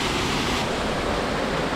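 A waterfall at Horton Creek in Arizona roars as a loud, steady, broadband rush of falling water, close by and unbroken for the whole moment, with no voices.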